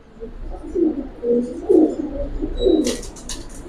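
A pet pigeon coos in soft repeated low phrases at close range, followed by a brief higher rustle.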